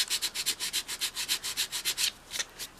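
Hand-sanding a broken vintage Valentine Mama doll gives close, rapid back-and-forth rasping strokes, about six per second in a steady rhythm, pausing briefly before a few more strokes.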